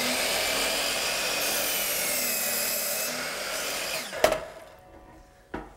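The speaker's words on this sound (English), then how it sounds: "head out to the garage to cut our first wall stud" A power saw cuts through a wooden wall stud in a garage, a loud steady whine that ends with a sharp clunk as the piece drops, followed by a softer knock, with no talking.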